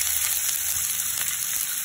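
Onions fry in a pan with oil and ghee for an egg masala cheese omelette, giving a brief, dense, even sizzle that holds steady throughout, loud and close with no voices.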